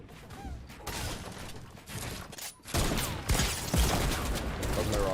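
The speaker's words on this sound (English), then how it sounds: "I'm shooting rockets." Rockets launched in Fortnite during a firefight: dense, loud blasts and explosive bursts pile up continuously, with a sharp louder surge in the second half and no pause between impacts.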